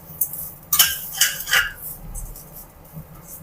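Grated coconut is stirred in a pan over a low flame, with a close series of metal spoon scrapes and clinks against the pan in short bursts, then quieter moments.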